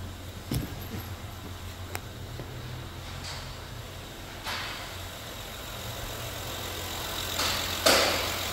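Honda 3.5-liter V6 from a 2015 model idling just after starting, a quiet, even low rumble with a few faint clicks and knocks over it and no talking.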